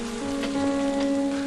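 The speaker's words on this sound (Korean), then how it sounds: "정말 비 많이 옵니다" Heavy rain pours on Yakushima island as a steady, dense hiss of drops striking surfaces, constant throughout the short stretch.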